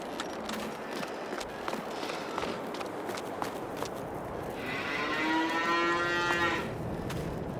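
Cattle moo on a farm in the Farming Simulator 22 video game, a long drawn-out low moo rising over steady ambient farm noise and soft footsteps, with no voices.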